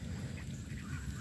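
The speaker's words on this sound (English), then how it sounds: "American black ducks, mallards mixing." American black ducks and mallards call close by in a rapid run of soft, low quacks, steady for just over a second.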